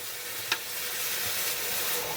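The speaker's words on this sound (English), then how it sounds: "So I can put that in the skillet now." Food sizzles steadily in a skillet as a keto protein-sparing meal cooks, a soft continuous hiss with a couple of brief clicks, no one talking.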